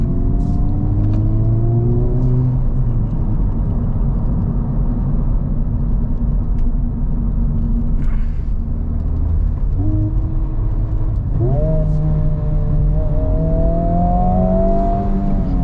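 A 2024 Acura Integra Type S with a manual gearbox revs through rev-matched downshifts, its engine note rising and falling in steady sweeps over a constant loud road rumble from inside the cabin.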